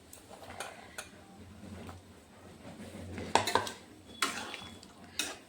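Cauliflower florets and potato pieces dropped into a cooking pan, heard as a few sharp clatters of utensils against metal and a soft scraping stir over a low background hum, no talking.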